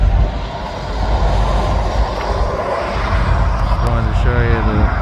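A Kansas City Southern freight train hauled by old locomotives passes near Kamloops, British Columbia, giving a close, continuous heavy rumble with a brief horn-like tone near the end.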